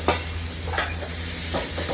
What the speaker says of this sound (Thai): เราจะเปิดไฟแรงขึ้นมานิดนึง แล้วก็จะใส่ผักลงไปเลย